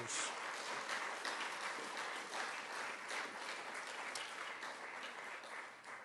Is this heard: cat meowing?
no